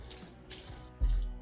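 Water running from a kitchen sink tap, a short splashing flow that swells louder near the end, close by.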